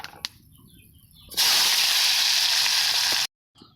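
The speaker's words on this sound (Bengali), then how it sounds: "কড়াইতে আমি শুকনো লঙ্কা আর কালেজিরা দিয়ে দিচ্ছি কুমড়োটা দিয়ে দিচ্ছি" Pumpkin hits a hot wok with dried chilli and nigella seeds, setting off a sudden loud sizzle that holds steady for about two seconds and then cuts off abruptly after a few quiet clicks.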